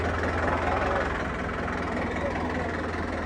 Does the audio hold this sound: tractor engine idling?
yes